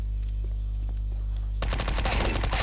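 An MP5SD suppressed submachine gun in CS:GO opens up in a sustained rapid burst after a quiet stretch of low game hum, the shots close and steady.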